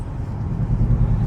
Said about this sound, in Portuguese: Fora o barulho do carro, né, V8